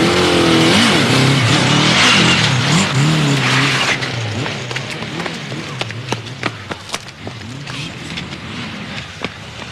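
A car accelerating hard in a police chase, with engine revving and sharp tyre squeals over loud, rising road noise. A voice is briefly heard.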